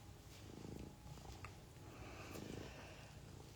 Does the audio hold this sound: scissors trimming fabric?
no